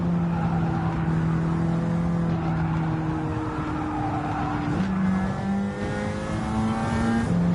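Race car engine in Gran Turismo 7 at Watkins Glen, holding a steady drone before a sharp pitch jump as it downshifts near the five-second mark, then climbing again under continuous tire and road noise.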